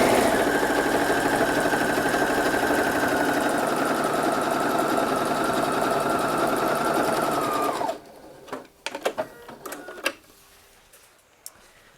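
A domestic sewing machine runs in one long steady burst, stitching a pocket bag seam on tapered-leg pants, then stops abruptly, leaving a few soft handling clicks and rustles.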